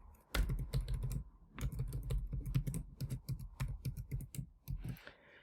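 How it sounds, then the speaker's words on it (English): Fingers type a password on a computer keyboard, a close, quick run of crisp key clicks in uneven bursts with short pauses between them. "So I'm going to type out the password here"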